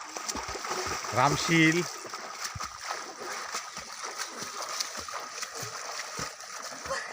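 Water splashing from people swimming outdoors, repeated irregular slaps and splatters close by, with voices talking over them.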